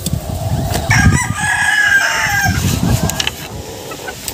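A silkie rooster crows loudly and close by, one drawn-out crow with clucking and scratchy background noise around it.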